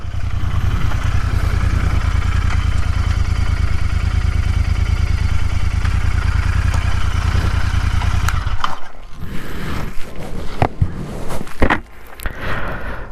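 A Royal Enfield Interceptor 650 parallel-twin idles close by with a steady, loud low thrum that cuts off after about eight seconds, followed by scraping and handling noises.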